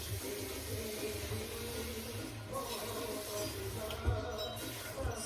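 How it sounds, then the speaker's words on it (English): Water poured into a cooking pot for an egg and potato curry, a steady, moderately quiet splashing stream with a brief louder gurgle near the end. "I'm gonna add some more water in it."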